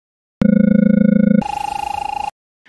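A synthesized electronic tone meant to suggest a small electric engine running, made for a Dune-style soundtrack, heard as a loud, evenly buzzing hum that jumps once to a higher pitch and then cuts off sharply, with no voices.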